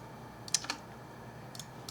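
A few soft, quiet keystrokes tap out numbers on a computer keyboard in a still room, with two clustered clicks early on and a couple more near the end.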